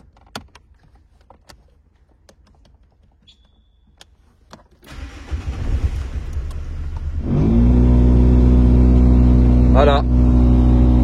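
Renault Clio 2 with a direct Venturi intake cranking over after faint clicks and rustling, then catching into a loud, steady idle with a deep rumble close by, a brief rising whine near the end.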